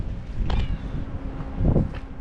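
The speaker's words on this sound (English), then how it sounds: "Black cat." A black cat outdoors gives two short meows, one near the start and a louder one toward the end, over light wind noise on the microphone.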